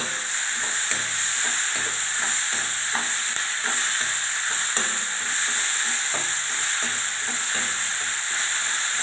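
Mango rice being mixed in a pan, with steady scraping and stirring strokes over a constant sizzling hiss, close and continuous with no talking.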